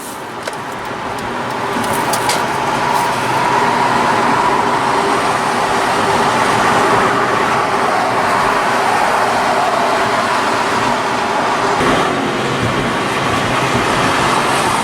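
A Hyundai Accent with a newly fitted O2 sensor and an unresolved fault drives along a road, giving steady interior road and engine rumble that swells after the first couple of seconds and stays constant, with no talk.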